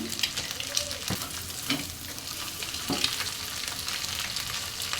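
Egg is stirred and fried in a pan: a soft continuous sizzle with three or four distinct spatula knocks and scrapes against the pan, close by and without speech.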